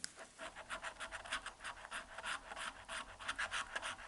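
FDJ scratch-off lottery tickets from the Dessert en Or second edition are scratched with quick, dense, raspy strokes in a steady fast rhythm, close and fairly quiet, with no voices.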